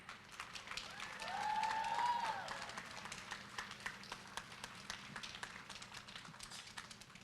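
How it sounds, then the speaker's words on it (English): Audience applause at a youth speaking competition, steady clapping with a brief whoop of cheering rising midway, then thinning into distinct individual claps toward the end. "another warm round of applause for Reagan Delatry."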